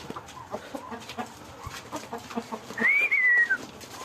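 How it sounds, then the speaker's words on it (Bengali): Farmyard chickens and ducks with scattered clucks over outdoor background, then a brief high whistling bird call near the end. "এই যে দেখেন হাঁস, এই যে মুরগগুলা"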